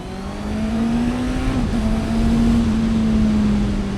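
Honda CB650R motorcycle switched into sport mode: a loud, steady engine drone that holds a constant pitch, slightly rising and then settling, close by with no speech.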